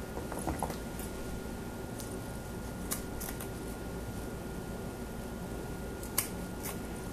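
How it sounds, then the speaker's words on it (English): Scissors snip repeatedly close by, with sharp, sparse cuts scattered over a low steady background hum. "I'll cut each of them in half."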